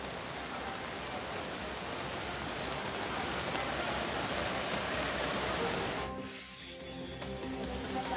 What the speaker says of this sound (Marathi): मात्र संध्याकाळी पावसाचा जोर चांगलाच वाढला.